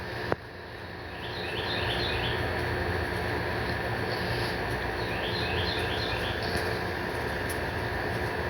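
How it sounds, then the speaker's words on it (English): Faint, repeated high chirping bird calls come in short bursts over a steady background hum, distant and without voices. "Oh, I hear birds."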